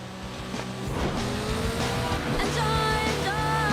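A car corners hard in the Burnout 3 racing game, engine roaring steadily while tires squeal in rising, drawn-out screeches, loud and close.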